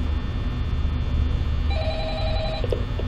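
Telephone ringing in the Five Nights at Freddy's horror game, a repeated electronic ring starting midway over a constant low hum of background noise.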